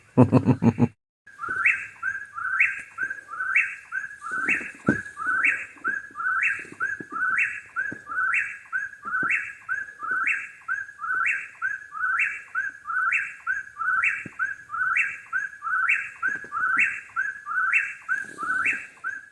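A bird on the Appalachian Trail calls over and over in a steady, evenly spaced rhythm, each call a clear whistled phrase, loud and close, heard alone in quiet surroundings.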